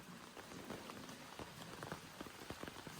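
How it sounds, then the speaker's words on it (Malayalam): Steady rain falling on a farm where chickens and lovebirds are kept, a dense, even patter with scattered sharper drops, fairly close and continuous throughout, with no voices. "മഴയാണ് ഗായ്സ്"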